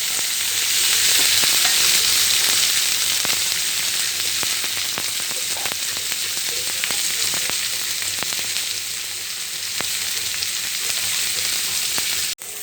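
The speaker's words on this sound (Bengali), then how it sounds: "পেঁয়াজ আর ক্যাপসিকামটা একটু ভাজা হবে" Onion and capsicum fry in a pan of oil tempered with fennel seeds, giving a loud, steady, close sizzle broken by occasional stirring clicks, with no voices.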